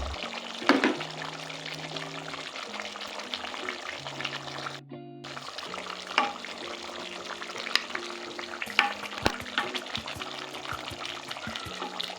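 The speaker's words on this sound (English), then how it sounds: "I add in green pepper for crunchiness and freshness" Green pepper stirred into a duck stew frying in a pan, a steady sizzle with scraping and clinking of the utensil against the pan and occasional sharp knocks, moderately quiet, no talking.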